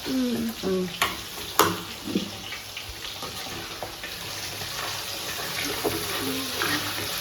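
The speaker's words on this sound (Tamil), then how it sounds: "இந்த மசாலாவே நம்ம நல்லா கிண்டி கிண்டி கிண்டி கிண்டி ட்ரை ஆக்க போகிறோம்." Oil sizzles and crackles steadily while a spoon scrapes and stirs through a thick masala, with occasional louder clinks against the pan.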